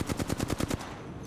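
Apex Legends gunfire: about seven rapid automatic bursts in steady rhythm, loud and close, then a short fading tail with no talk.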